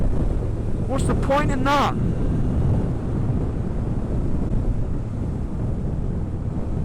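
Strong wind buffets the microphone in a constant loud roar on a ride on a Suzuki Bandit GSF 1200, with someone briefly speaking over it.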